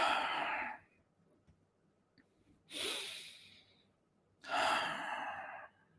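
Three slow, deep breaths, each a soft airy rush lasting about a second, separated by quiet pauses, close and alone with no talk, taken during a guided relaxation exercise.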